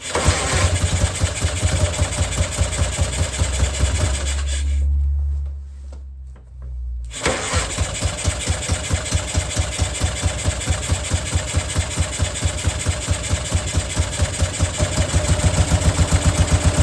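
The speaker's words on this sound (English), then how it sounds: "And then the bike started with one kick." A BMW R60/2 motorcycle engine idles with a steady rhythmic thump, cuts out briefly, then fires on a single kick and settles back into an even, loud idle that picks up slightly near the end.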